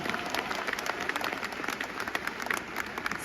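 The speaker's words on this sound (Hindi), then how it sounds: "तालियां हो जाए एक बार" A seated audience at a network marketing event applauds, a sustained crowd of clapping hands with some sharper individual claps standing out, steady throughout.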